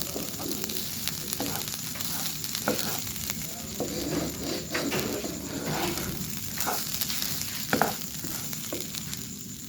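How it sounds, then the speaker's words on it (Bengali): Rice and mung lentils fry in a pan for a mung pulao, a steady dense sizzle with intermittent scraping stirs, close and continuous throughout. "এবার আমি চালটা আর ডালটা ভেজে নেবো"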